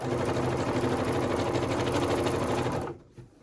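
A sewing machine runs steadily while stitching gathering stitches into fabric for a summer halter maxi dress, a loud continuous whirring drone that stops abruptly near the end.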